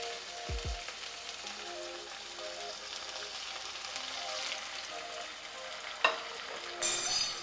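Marinated chicken pieces fry in 2 to 3 tablespoons of hot oil in a pan over medium heat, giving a soft, steady sizzle with occasional louder crackles and pops near the end.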